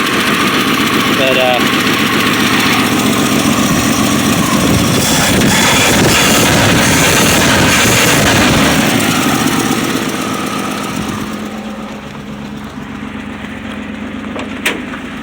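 A 1965 Plymouth Valiant engine runs loud and close, a rough steady idle with knocking, vibrating undertones, then drops quieter toward the end; someone talks over it.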